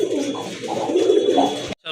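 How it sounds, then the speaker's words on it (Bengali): Loud, close large Rajgolla pigeons coo continuously in overlapping low, throaty murmurs, cutting off abruptly near the end. "রাজগোল্লা কবুতর বিগ সাইজের কবুতর"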